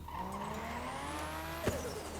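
A new cabin's engine in the Crossout video game drones steadily as its pitch climbs, then the turbo blow-off valve lets out one sharp, brief whoosh near the end, close with no talk.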